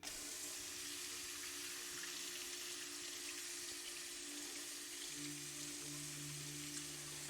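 Tap water runs steadily into a sink while vegetables are rinsed, a continuous broad hiss with a low hum beneath and no voices.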